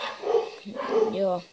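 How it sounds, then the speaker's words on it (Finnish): Pet dogs bark in short bursts, two or three yaps close by, mixed in with a person speaking in a home. "tuolla haukkuu meidän koirat"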